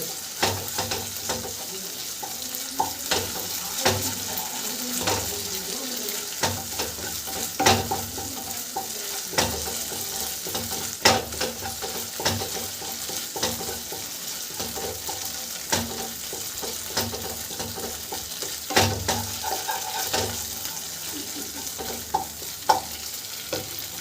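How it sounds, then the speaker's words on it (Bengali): A ground paste of cashew, poppy seeds and melon seeds fries in a pan for dab chicken, giving a steady close sizzle broken by frequent scraping stirs throughout, with no talking. "এখন এটাকে মোটামুটি হালকা ফ্রাই করে নিতে হবে"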